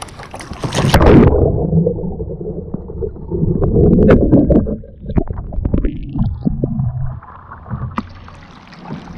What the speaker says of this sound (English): This would be a normal sweep called a Greenland standard roll.